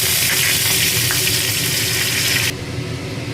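Chopped ginger frying in hot mustard oil with cumin seeds and dried red chilli, a loud steady sizzle that eases down partway through, with no talking.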